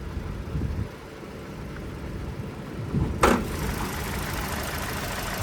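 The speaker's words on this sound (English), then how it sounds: "And there's that 2-liter naturally aspirated 4-cylinder." Naturally aspirated 2-liter four-cylinder in a 2025 Toyota Corolla Cross L idling with the hood open, a steady low hum close by, with a brief sharp noise partway through.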